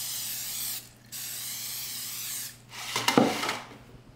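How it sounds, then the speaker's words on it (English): Nonstick cooking spray hisses into two 8.5 by 4.5 inch loaf pans in a home kitchen: two steady close bursts, a brief pause, then a shorter spray followed by light clattering of the pans. "nonstick spray."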